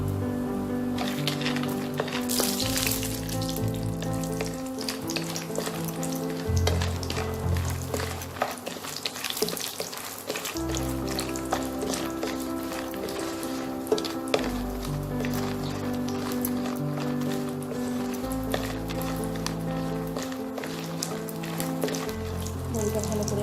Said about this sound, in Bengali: এবার আমি এতে বড়ি কটা ভেজে নেব।